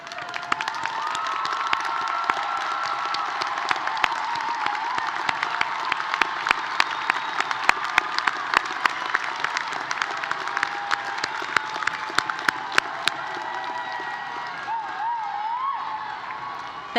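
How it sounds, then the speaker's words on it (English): Sustained audience applause at a university commencement ceremony for graduating honors students, dense steady clapping with a few cheers and whoops scattered through, holding for the full stretch before easing slightly at the end. "Will those students who are graduating with academic and other special honors please rise and receive our applause?"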